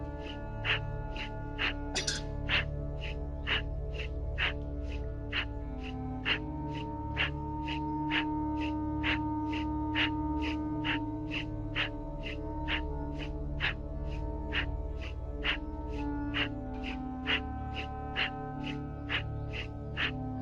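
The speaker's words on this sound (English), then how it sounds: "Inhale forward, exhale backward, breathing through the nose, eyes closed" Breath pushed through the nose during a slow movement exercise gives short, sharp puffs in a steady fast rhythm, repeating many times over a soft sustained tonal background.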